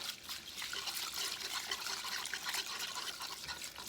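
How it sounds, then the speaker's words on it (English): Tomato paste, garlic powder and other spices being whisked together for Spanish rice, giving a steady, close wet swishing and sloshing that runs continuously without pause or talk. "Now I'm going to whisk this all together."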